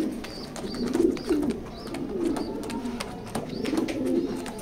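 A pair of racer pigeons coo close by in repeated soft, throaty phrases that keep a loose rhythm, with faint background noise and no voices.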